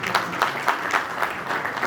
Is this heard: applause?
yes